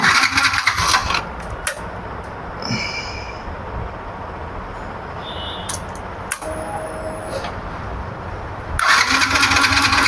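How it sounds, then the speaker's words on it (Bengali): A Yamaha FZS V2 motorcycle, just back from a fuel injector repair, with a loud engine burst at the start, a quieter stretch of clicks and faint tones, then the engine roaring again near the end, close by. "এই যে আমরা ওটা ইনস্টল করাতে ইঞ্জেক্টারে এবার তেল মারছে বাইকটা এখন স্টার্ট হবে"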